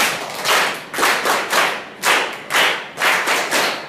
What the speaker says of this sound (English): Listen to our beaver clap